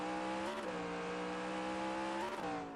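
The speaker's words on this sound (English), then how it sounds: "I love the engine sounds here, too." Simulated race car engine from NASCAR Racing 2003 video game, a steady droning whine held at high revs with small pitch shifts as the throttle eases and returns, loud and continuous without talk.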